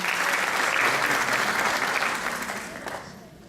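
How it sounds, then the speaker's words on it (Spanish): Audience applause welcoming a speaker at a patient gathering on pulmonary hypertension, a dense burst of clapping that holds steady then fades out over a few seconds. "Un aplauso, por favor."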